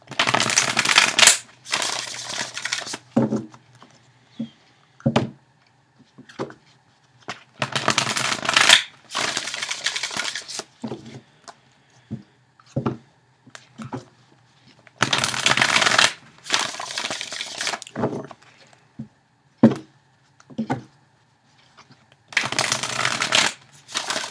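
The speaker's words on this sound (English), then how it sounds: "Trying to shuffle a little bit better here" Tarot cards shuffled by hand in repeated bursts of riffling and flicking, close and crisp, with short quiet pauses between the bursts.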